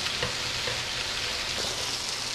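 Butter-brushed scallops searing in a pan, a dense, even, loud sizzle that stays constant throughout with no speech.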